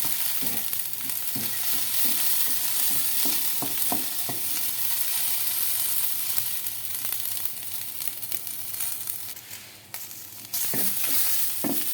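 Green chilies fry in oil in a pan, a steady close sizzle with repeated stirring scrapes and taps of a spatula, no talking.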